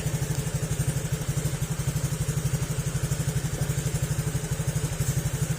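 A Honda Click 125 scooter engine with no pulley fitted idles with a steady, rapid mechanical clatter, loud and close, running continuously without any voices.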